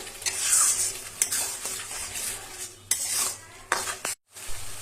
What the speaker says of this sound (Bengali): তখন মশলাটাকে ভালোভাবে কষাবো যেন কাঁচা ফ্লেভারটা না থাকে